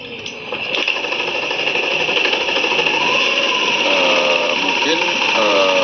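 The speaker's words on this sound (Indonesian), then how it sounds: "motor ini sekarang sudah bisa hidup dengan normal" A Honda Vario automatic scooter, repaired after an ACG socket fault, runs at a steady idle with a continuous engine hum, someone speaking over it.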